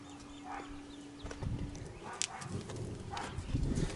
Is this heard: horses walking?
yes